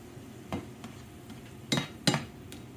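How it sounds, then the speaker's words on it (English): Vegetables for crab cakes sautéing in a pan, quiet stirring with a few distinct scrapes and clinks of a utensil against the pan over a faint sizzle, spaced irregularly. "you're going to saute these for just about 2 minutes"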